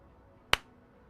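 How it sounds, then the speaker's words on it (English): A single sharp hand clap cracks once, close and crisp, against an otherwise quiet room with no talk around it. "Sorry for the clap."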